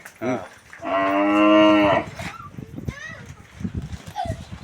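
A Gir cow in a cowshed gives one long, loud moo lasting about a second, among cows and calves, with people talking nearby before and after.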